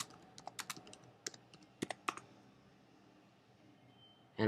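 A computer keyboard typing a search query, a quick cluster of sharp key clicks in irregular rhythm that slows and fades into near-silence, close and faint, ending with a brief louder noise.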